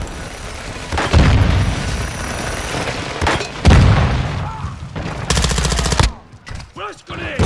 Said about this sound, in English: Throwing flash grenade.